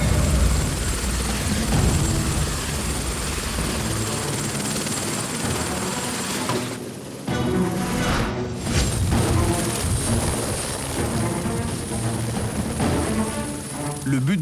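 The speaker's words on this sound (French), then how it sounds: "utiliser l'hélicoptère pour faire monter sur un sommet 12 hommes, 2 motopompes et un bac à eau de 2000 litres" A helicopter lifts twelve firefighters, two motor pumps and a 2,000-litre water tank to a summit during a firefighting exercise. Its rotor drone is loud, steady and close, dipping briefly midway before resuming.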